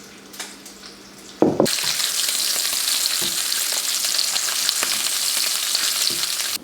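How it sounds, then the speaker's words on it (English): Venison burger patties hit a hot pan with a sudden sizzle, then keep up a loud, steady frying hiss with faint scrapes and clinks. No one speaks over it. "Our pan is nice and hot, ready to go for the burgers."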